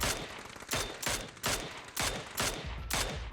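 Gunfire in PUBG rings out as six evenly spaced sharp single shots, loud and close, each followed by a short decaying tail.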